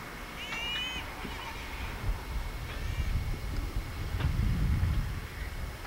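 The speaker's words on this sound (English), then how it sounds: "There's a bunch of camp robber birds over there." Gray jays (camp robber birds) in cold, snowy Oregon mountains give a few short, whistled calls early on, followed by low rumbling wind noise and no voices.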